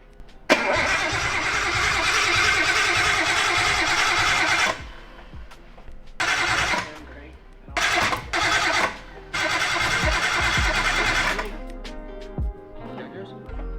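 A Nissan R33 Skyline with dry fuel injectors cranks over in several bursts, the starter churning loudly for a few seconds, then stopping and restarting in shorter tries without catching, with quiet pauses between.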